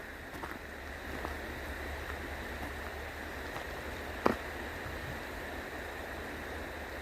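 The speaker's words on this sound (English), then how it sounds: "And now we have the river." A river flowing near an RV park in Canada, a soft steady rushing wash heard from some distance, with one brief faint click partway through.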